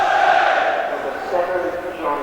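Leeds United supporters at St Andrews for the 1986/87 play-off final replay against Charlton Athletic make a steady, dense crowd roar that runs under a commentator's voice throughout.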